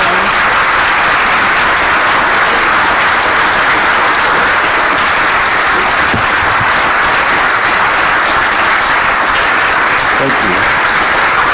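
An audience welcoming a speaker to a talk on the Declaration of Independence and the U.S. Constitution breaks into loud, dense, sustained applause, a steady wash of many hands clapping throughout.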